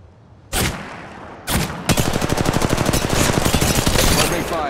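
Gunfire in the Apex Legends Mobile video game: a sharp shot, a brief pause, a second burst, then a long rapid automatic volley of evenly spaced cracks, loud and close throughout.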